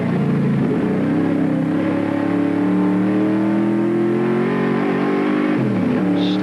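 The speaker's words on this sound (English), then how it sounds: "A deep-throated rumble of the big Falcon, contrasting with a high-pitched whine of the Mazda RX-7s." Ford Falcon and Mazda RX-7 race cars at the Amaroo Park circuit in 1983, a loud sustained engine drone that holds steady, then rises and falls as the cars pass close by.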